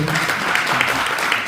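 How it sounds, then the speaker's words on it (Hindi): Brief burst of audience clapping at an evening gathering honoring elders, dense and even across the whole moment, loud and close. "तालियां दिए करते"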